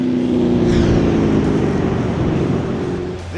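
The Black Manta custom car's engine rumbles steadily up close with a dense, throaty drone and a brief higher rev swell near the end.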